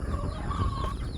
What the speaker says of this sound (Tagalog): Yan lang ang ating mga manok ngayon, ilang piraso.